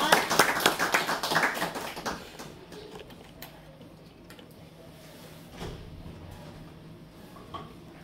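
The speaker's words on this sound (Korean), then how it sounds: "큰 박수로 맞아주시겠습니다." Lecture audience at a lifelong-education centre autobiography-writing class clapping to welcome a lecturer, a dense burst of applause for about two seconds that thins to scattered claps and room noise.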